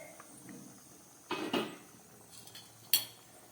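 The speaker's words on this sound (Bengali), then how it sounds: "এবার চলুন ডালের ঢাকাটা খুলে আপনাদের দেখাই।" A lid lifted off a pot of vegetable moong dal with a metallic clatter, then a faint utensil clink a moment later, over a quiet background.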